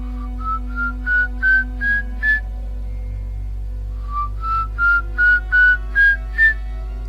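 A lone whistle repeats a short rising phrase of quick notes, pauses, then repeats it again, clear and close over a steady low hum.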